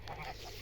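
Sebastopol frizzled geese in the snow let out a brief, faint honk, heard at a distance and lasting well under a second.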